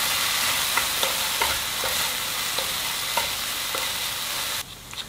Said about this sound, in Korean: 깨 빻은 게 잘 섞일 수 있도록 잘 한번 섞어주세요.